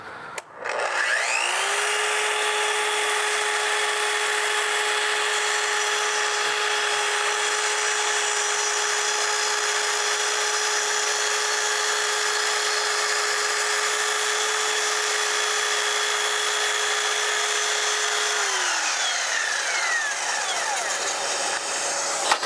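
A miter saw fitted with a hold-down cuts through wood in one long, steady, loud whine lasting about twenty seconds, spinning up at the start and winding down at the end, with no voice over it.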